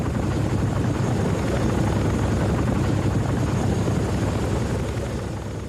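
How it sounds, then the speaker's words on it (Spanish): A Chinook helicopter hovering low over the ground, its rotors making a loud, steady, dense thudding roar that continues unbroken throughout. "sus compañeros vigilan la altura a la que está el Chinook y dan instrucciones al piloto para que la ajuste adecuadamente"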